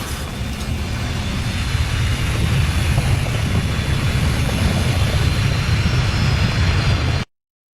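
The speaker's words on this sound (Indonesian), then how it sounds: "Mereka melakukan perjalanan mereka sendiri dengan menaiki pesawat tempur melintasi Amerika Serikat" A fighter plane flying across the United States gives a steady, loud engine roar that holds evenly for about seven seconds before cutting off abruptly.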